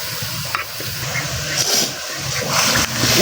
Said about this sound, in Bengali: এখন হলুদ মরিচ আর লবণটা দিয়ে দিব স্বাদ মতো লবণ হলুদের গুঁড়া পরিমাণ মতো দিয়ে দিতেছি